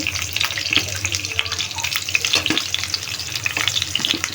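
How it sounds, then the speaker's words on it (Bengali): Marinated fish frying in hot oil for a tomato bhuna, a steady close crackling sizzle with stirring clinks and occasional splashy pops throughout. "এখন আমি এটার মধ্যে এই যে দেখো মাছগুলি মেখে রাখা হয়েছে, এগুলি ভেজে নেব"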